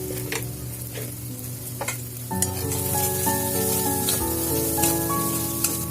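Jackfruit kofta curry masala sautéing in a pan after salt and sugar are added: a few scattered scrapes at first, then a loud, steady close sizzle with continuous stirring and occasional clinks, no voices.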